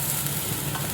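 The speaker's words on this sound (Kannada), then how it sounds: "ಸ್ವಲ್ಪ ಆನಿಯನ್ ಮಿಕ್ಸ್ ಬ್ರೌನ್ ಕಲರ್ ಬರೋ ತನಕ ಚೆನ್ನಾಗಿ ಫ್ರೈ ಮಾಡಬೇಕು" An onion mix frying in a pan until brown, a dense, continuous close sizzle with faint stirring scrapes, brief and without any voices.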